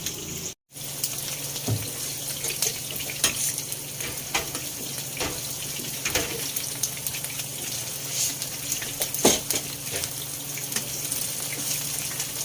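Okoy fritters frying in hot oil, a steady close crackle and sizzle with scattered sharp pops throughout, no voices.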